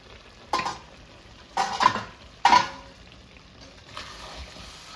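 Methi chicken with fenugreek leaves and salt being stirred in a pan, giving three distinct scraping strokes against a low sizzle, the last one loudest, then a quieter scrape near the end; no speech.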